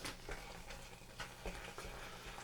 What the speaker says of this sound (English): and stir that into mix